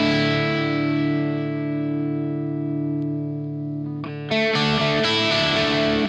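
ESP Kirk Hammett KH-3 electric guitar with the pickup selector in the middle, both pickups together, ringing a long sustained distorted chord with effects, then a few sharper strummed chords near the end; no talking.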